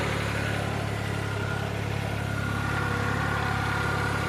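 A New Holland tractor's engine runs steadily while working a farm field, a continuous mid-pitched diesel drone with a constant low hum and no speech.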